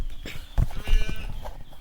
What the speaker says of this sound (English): But you can just hear the sheep.